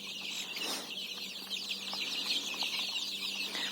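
Several chicks cluck and chirp softly nearby while grazing on greens in a yard, a busy, continuous chatter over a faint background hum.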